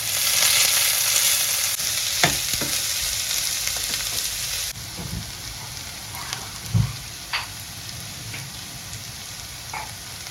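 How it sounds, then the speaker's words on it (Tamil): Fennel seeds, cloves and chopped onion sizzle steadily in hot oil for a chicken liver fry, with a loud, continuous crackle and a few sharper pops and stirring clicks close by. "பெருஞ்சீரம் பொறிஞ்சு வர கராம்பு அதுகளெல்லாம் கொஞ்சம் பொரிஞ்சு வர வெங்காயத்தை சேர்க்கிறோம்"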